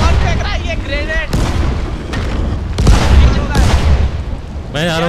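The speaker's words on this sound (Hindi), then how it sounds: "कौन फेंक रहा है ये ग्रेनेड?" Grenade explosions and combat noise in the video game Dying Light, heavy booms and crashes mixed with gunfire, with excited players talking over the action.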